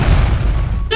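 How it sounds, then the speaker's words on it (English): A kitchen explosion: a loud, deep boom rumbling close by for about a second, cut off by a brief higher tonal sound at the end. "He exploded your kitchen."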